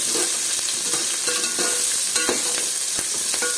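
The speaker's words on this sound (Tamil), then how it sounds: "நல்லா வதங்கட்டும். வெங்காயம் நல்லா வதங்கிருச்சு." Onions fry in a pan for mutton keema biryani, crackling and sizzling steadily while a spoon scrapes and stirs in repeated clanking strokes, close and clear with no voices.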